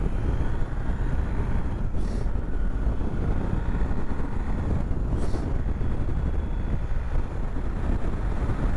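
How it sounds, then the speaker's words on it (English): Strong wind buffets a BMW GSA 1250 motorcycle on an exposed Scottish hilltop, a steady loud roar of broadband rushing noise, constant and close, with brief hissing gusts. "My God, it's windy up here."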